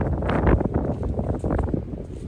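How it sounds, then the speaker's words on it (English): Outdoor wind gusting hard straight into the microphone, a loud, rough, buffeting rumble that swells and fades unevenly across the whole moment, with no clear voices. "Wow, it's really windy. I hope you guys can still hear us."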